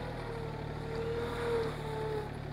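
Rural King RK24 subcompact tractor working wet ground and pushing dirt with its bucket, a steady low diesel drone with a faint rising whine, moderately loud and continuous with no talk.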